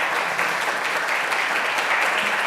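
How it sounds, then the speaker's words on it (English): Audience applause at an honors conference, a steady dense wash of clapping from a crowd filling the room at full volume, with no voices rising above it. "So please go ahead and give a round of applause for Mary Noble Howard."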